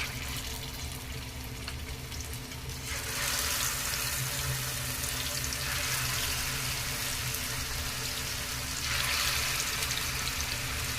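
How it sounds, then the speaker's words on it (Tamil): Chicken pieces for street-style chicken 65 deep-frying in hot coconut oil, a steady broadband sizzle that grows louder around the third second as more pieces drop in, continuous and close with no talk. "இப்போ எண்ணெய் சூடாயிடுச்சுங்க. நம்ம ஒவ்வொரு சிக்கனையாக பொரிச்சு எடுத்துக்கலாம்."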